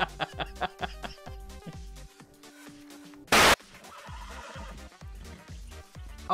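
A horse in the video game Red Dead Online whinnies loudly with a long shrill neigh amid game music and hoof thuds, and a sharp burst of noise cuts in near the middle.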